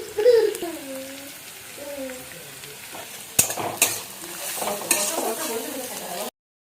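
Whole garlic cloves frying in a pan as they are stirred, soft sizzling with a few sharp scraping clacks of the utensil, while a voice speaks briefly at the start.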